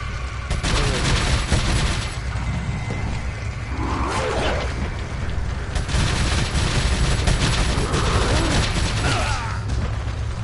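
Dense, loud gunfire in Resident Evil 4, rapid overlapping shots and mechanical clatter filling the scene continuously, with no voices over it.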